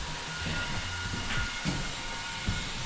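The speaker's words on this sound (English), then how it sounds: "Now, this is just a railway, so it's not that beautiful" A train passes on a nearby railway behind a new townhome build, heard as a broad steady rushing rumble with faint rhythmic low thumps, fairly distant and continuous.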